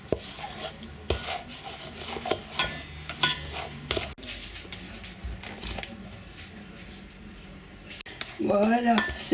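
A utensil scrapes and knocks against a bowl while egg-free apple cake batter is stirred, with irregular rubbing strokes and clinks up close, and a voice speaking near the end.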